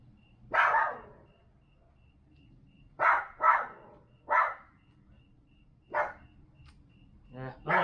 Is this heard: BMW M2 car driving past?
no